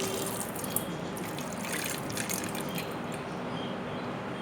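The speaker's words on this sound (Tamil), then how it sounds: "இப்போ இந்த உரலில் லேசாக கழுவி இதில் ஊற்ற போகிறேன்" Water used to rinse out a stone mortar poured into a vessel, a steady close splashing trickle with small drips, alone without talk.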